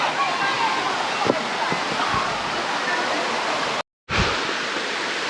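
Steady, broadband roar of Tatlıca Waterfalls in Erfelek, Sinop, fills the whole clip, loud and close, with a brief dropout near the end and a few faint knocks.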